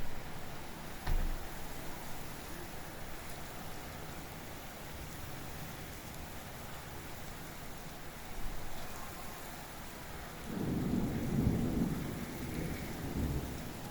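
Steady rain falls outdoors while thunder rolls low and distant, swelling into a deeper, longer rumble near the end, with no voices.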